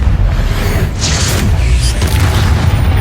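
Booming Confringo spell blasts from the Hogwarts Legacy video game, a dense rumbling explosion with whooshing bursts layered over continuous loud low-end combat noise.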